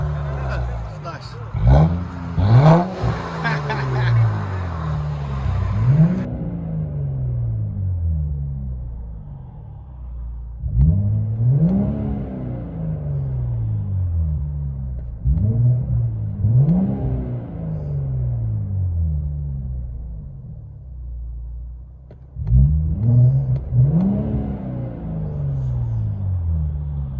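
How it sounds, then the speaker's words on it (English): Engine of a 2018 Infiniti Q60 3.0L twin-turbo V6 with straight-pipe exhaust, all-wheel drive, revving in repeated bursts that climb and drop back, with a deep rumbling idle between the revs, loud and close. "Infiniti Q60 2018 twin turbo. Straight pipes."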